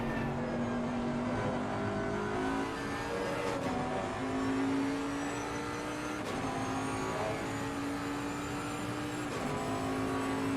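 Onboard GT3 race car engine in Assetto Corsa Competizione, a loud steady buzzing whine that climbs in pitch, with sharp drops at three gear shifts, heard alone without commentary.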